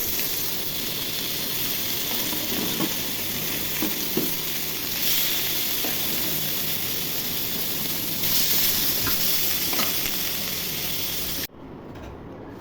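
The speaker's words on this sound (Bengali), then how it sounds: "তেল গরম হয়ে গেছে, এখন মাছগুলো ভেজে নিব।" Sea fish rubbed with turmeric and salt fry in hot oil, producing a dense, even sizzle with faint spatters that runs unbroken until it drops off abruptly near the end.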